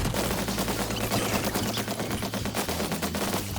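Rapid automatic gunfire in Black Ops 7 Zombies on the Paradox Junction map, a dense, loud, continuous stream of shots fired at the ground with no pauses and no talking.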